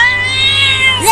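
A cartoon cat gives a single drawn-out, whiny meow, loud and close, lasting about a second.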